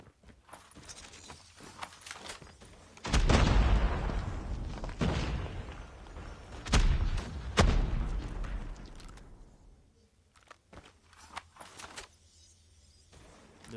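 A frag grenade goes off in a Call of Duty Search and Destroy match, with heavy deep booms and rumbling blasts, followed by quieter gunfire and footsteps in the game.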